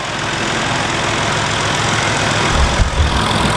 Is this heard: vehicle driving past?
yes